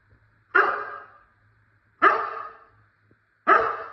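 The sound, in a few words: dog barking on the speak command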